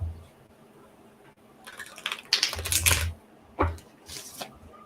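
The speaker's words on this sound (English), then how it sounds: "let me shuffle these cards a little bit better." Tarot cards being shuffled by hand, bursts of crisp riffling and slapping in short irregular clusters, close and fairly quiet, with no voices.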